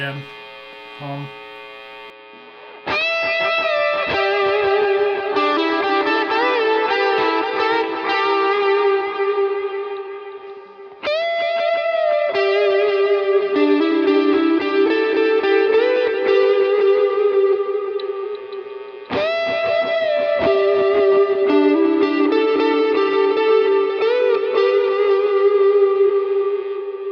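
Squier Classic Vibe 50s Telecaster electric guitar playing lead lines through effects, with sustained bright notes and echo tails in three long phrases, some background hum.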